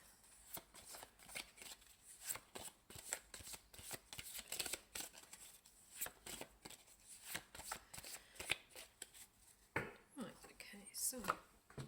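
Tarot cards being shuffled by hand at close range: soft, crisp riffling and sliding bursts in an irregular rhythm, quiet and intimate, with a brief pause before a final flurry.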